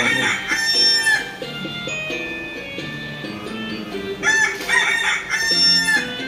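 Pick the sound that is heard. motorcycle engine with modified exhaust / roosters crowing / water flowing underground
roosters crowing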